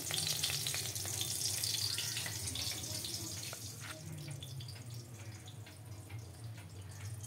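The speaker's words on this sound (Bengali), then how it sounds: "আবার এই কড়ার মধ্যে আমি সর্ষের তেল দিয়ে দিলাম, আর এর মধ্যে কুমড়ো পাতা মোড়া মাছ আমি দিয়ে দিলাম।" Silver carp fillets wrapped in pumpkin leaves frying in mustard oil in a wok, giving a steady soft sizzle that fades slightly over the clip, with faint spattering pops and no talk.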